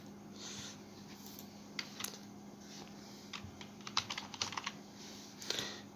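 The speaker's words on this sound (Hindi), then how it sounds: "मान लीजिए कोई टेक्स्ट हम टाइप करते हैं" Someone types text on a computer keyboard, with scattered light key taps that cluster into a brief quicker run near the end, quiet and close over a faint steady hum, no voice present.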